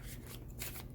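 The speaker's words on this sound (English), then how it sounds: "Showing off my lousy shuffling skills here." Tarot cards being shuffled by hand give a quick, soft flutter of riffling paper in short repeated bursts, close and fairly quiet, with no speech.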